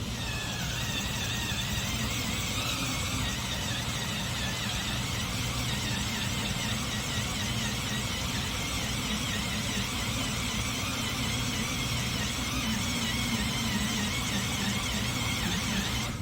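A 3M Stripe Off eraser wheel spins against car paint, giving a steady high whirring squeal with a constant grinding texture, close and unbroken throughout.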